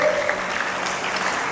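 Steady clapping from an audience at a guidance talk for students who passed 10th and 12th class, a moderate even wash of many hands with no one speaking over it.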